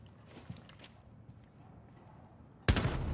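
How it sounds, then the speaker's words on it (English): A single sharp gunshot from Rainbow Six Siege cracks loudly near the end after quiet game ambience with faint footstep-like taps, followed by a short ringing tail. "Ah, I shot him."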